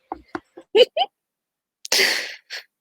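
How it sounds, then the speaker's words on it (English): A few short voiced sounds are followed by a harsh, breathy burst like a cough, then one smaller cough-like sound. "She proceeds to cough between sips of her drink"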